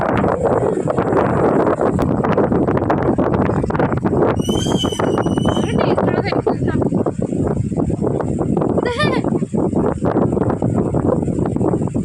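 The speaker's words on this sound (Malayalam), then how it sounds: "നല്ല കാറ്റുണ്ട്" Strong wind buffeting the microphone on a bridge by Manjankuzhi Dam in a Kerala village, a steady loud roar throughout with people talking underneath and a brief horse-like whinny in the middle.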